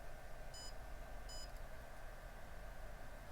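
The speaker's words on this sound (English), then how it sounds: "You should hear beeping coming from the goggles." Two short bursts of high electronic beeping from Fat Shark FPV goggles during drone binding, about a second apart, over a steady low background hum.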